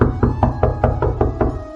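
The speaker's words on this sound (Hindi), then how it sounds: "द्वार खटखटा कर देखता हूँ" Eight firm, evenly spaced knocks on the wooden door of a small hut, loud and close, with no talking.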